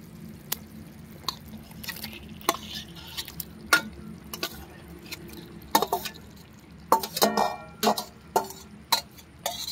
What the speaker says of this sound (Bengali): মশলাটা কষিয়ে নিয়েছি, এবার দেব মাটনটা